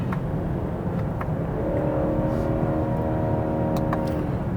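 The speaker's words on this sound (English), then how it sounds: "Vehicle's quiet, but it makes enough of a growl that you're driving a performance car" A 2020 BMW 740i with its 3-liter engine growls steadily while driving in sport mode. The cabin drone is continuous and the pitch rises partway through as the car pulls harder.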